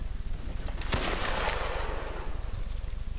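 Musket fire in a Napoleonic Wars line-battle video game: one loud broadband blast with a long rolling tail, surrounded by faint distant shots and a constant battlefield rumble.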